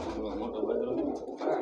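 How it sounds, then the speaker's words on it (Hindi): Pigeons coo in a loft of kept racing birds with eggs and young, a low warbling murmur that runs steadily through the moment, fairly close, with a voice talking over it. "ये बजरे कबूतर देखिए"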